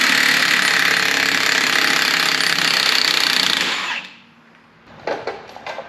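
A heavy impact wrench hammers loudly and continuously at a ball joint nut on a Chevy/GMC front suspension for about four seconds, then stops, followed by a few short bursts.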